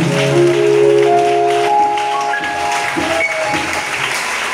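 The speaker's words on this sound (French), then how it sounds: "Acclame le Seigneur Jésus. Je veux le cri de joie." A church congregation applauds and cheers through a worship song, a steady wash of clapping and crowd noise layered over sustained music and singing, loud and close throughout.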